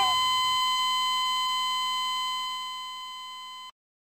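Ship alarm set off by a button in a Star Wars roleplay video game: a loud, sustained electronic beep tone with bright harmonics, ringing steadily for several seconds before cutting off abruptly.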